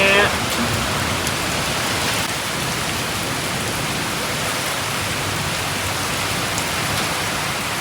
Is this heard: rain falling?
yes